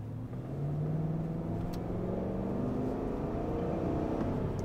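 The large engine of a Chevrolet Tahoe accelerates with a smooth, rising hum heard from inside the cabin. The pitch climbs steadily over a few seconds at a moderate level, with no talking.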